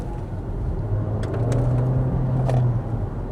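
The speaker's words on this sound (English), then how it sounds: "then that petrol power really does kick in, and it's almost like the car's just had an espresso" Volkswagen Golf GTE Mk8.5 plug-in hybrid with its petrol engine kicking in under acceleration, a steady low engine drone with a rising tone, heard from inside the car over road and wind noise, with no talking.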